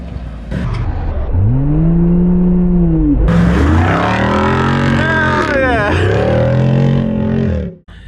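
Jeep Rubicon 392 and Ford Bronco Raptor accelerating hard, loud close engine roars with rising revs and gear shifts, cutting off abruptly at the end.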